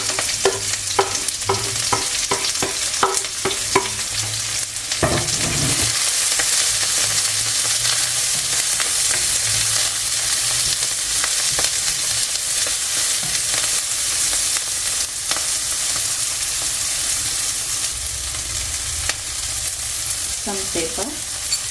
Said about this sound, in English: So I need that much oil, and adding the onion and some curry leaves.